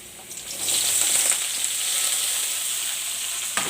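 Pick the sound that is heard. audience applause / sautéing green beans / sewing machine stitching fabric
sautéing green beans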